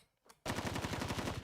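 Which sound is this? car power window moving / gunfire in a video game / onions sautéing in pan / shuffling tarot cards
gunfire in a video game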